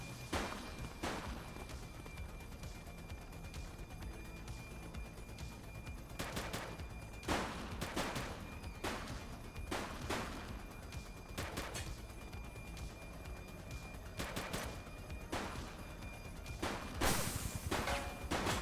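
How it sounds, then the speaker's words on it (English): Gunfire in the police video game The Precinct: repeated sharp shots in irregular bursts and clusters over a steady background rumble, with a louder volley near the end. "She's shooting!"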